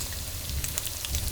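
Kielbasa stir-fry ingredients sizzling in a hot pan, a steady close crackle with small pops scattered through it and no voices.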